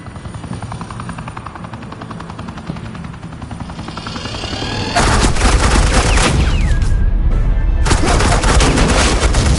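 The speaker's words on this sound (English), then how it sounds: "Suppressing fire." A helicopter drones in the Batman: The Enemy Within video game, then sustained automatic suppressing gunfire erupts in loud rapid bursts, pauses briefly and resumes over the rotor noise.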